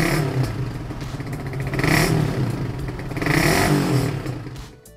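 A Suzuki Satria FU motorcycle revs through its exhaust, a loud, crisp, raspy engine note swelling in two surges before dropping off at the end, with no talking.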